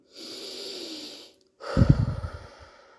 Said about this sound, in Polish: wychodzę na ogród, na taras i oddycham i robię głębokie oddechy